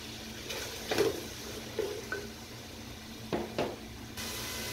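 Chicken and onions frying in a pan for macaroni masala: a soft, steady sizzle with a few brief clacks of stirring, quiet and close, with no talking.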